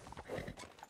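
Horses clip-clop in the RedM video game, with quiet, uneven hoof beats sounding at a distance and no speech over them.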